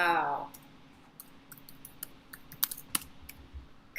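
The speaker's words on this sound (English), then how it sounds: "I figured you were typing it back to Chad." Someone types on a computer keyboard in a quiet room, with scattered, faint key clicks in irregular bursts after a brief voice at the start.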